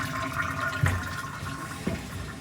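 A toilet in a de-winterized bathroom flushes and refills with cold water: a steady, moderately quiet rush of water with a couple of brief knocks and no talking.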